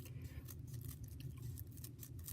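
Scissors snip through paper while a snowflake shape is cut out, a quick run of soft crisp clips close by and very quiet, with no talking.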